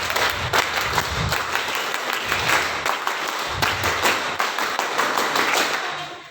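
An audience of Scout leaders in Indonesia performs the rhythmic Pramuka scout clap twice, a loud patterned burst of synchronized claps and thumps filling the room with no talk.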